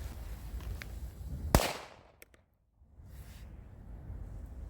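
A small black Dum Bum Micro firecracker goes off with one sharp, loud bang that cuts through faint outdoor background noise, followed by quiet.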